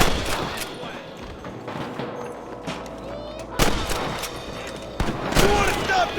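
Gunshots in the Western video game Red Dead Redemption during a gang hideout shootout: several sharp cracks ring out, with loud reports near 3.6 and 5 seconds, over steady game background sound.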